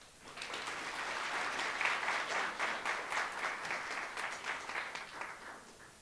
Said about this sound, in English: I think another round of applause for that.